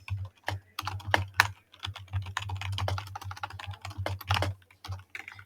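HTML heading code goes in on a computer keyboard in quick, uneven bursts of close, crisp keystrokes over a steady low hum.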